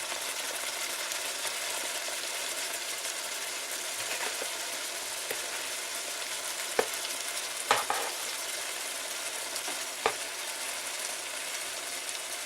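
Green beans and small cauliflower florets stir-fried in a pan for spiced vegetable fried rice, giving a steady close sizzle and crackle with a few sharp clinks of a utensil against the pan, no talking.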